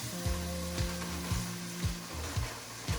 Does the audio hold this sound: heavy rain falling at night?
no